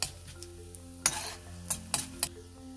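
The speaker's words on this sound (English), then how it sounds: "Let the urad dal fry a little bit." Urad dal crackles and sizzles in hot oil with mustard and cumin seeds, several sharp pops and spatters standing out over a steady fry, with a spoon stirring now and then.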